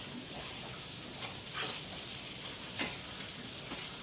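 Sausage meat sizzling in a pan while being broken up for homemade pasta sauce, a steady faint frying hiss with a few soft scraping ticks of a utensil, no talking.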